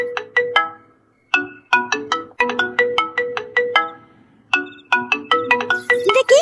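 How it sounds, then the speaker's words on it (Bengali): A mobile phone ringtone plays a bright, repeating melodic pattern of quick chiming notes in bursts separated by brief pauses, loud and close. "কে আবার ফোন করলো মোবাইলটাতে?"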